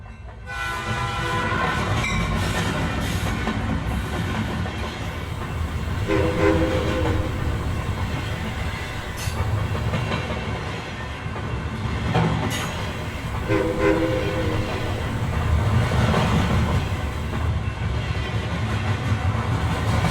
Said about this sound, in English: I hear something. Sounds like a train.